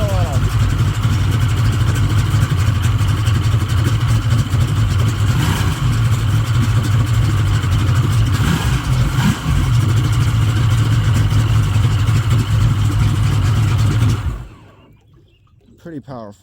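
The engine of a 2002 Sea-Doo Islandia deck boat runs loud and close, idling steadily with a brief rise in revs, then cuts off abruptly near the end.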